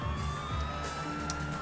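Police car sirens wail through a chase in the video game GTA IV, a steady electronic tone holding over rumbling engine and traffic noise with a brief sharp knock partway through.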